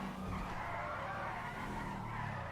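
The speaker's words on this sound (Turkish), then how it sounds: "Oğlum bu arabanın şeyini çekince ne kadar kayıyor ya." A car in GTA 5 skids and slides, with a continuous loud tire squeal layered over engine roar throughout.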